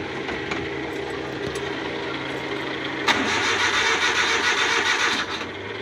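A freshly overhauled Suzuki F6A engine cranks without catching: a steady mechanical churn that grows louder and rougher about halfway through and runs on without the engine firing.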